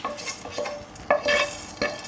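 Crackly sizzling of rice pasta (kritharaki) frying in a pan with intermittent scraping and stirring clinks, close up, no talking.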